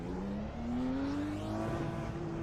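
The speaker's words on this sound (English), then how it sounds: "There's a car approaching." Engine whine of an IndyCar in the iRacing sim rising steadily in pitch as another race car draws closer, a continuous droning tone with layered harmonics and no voices.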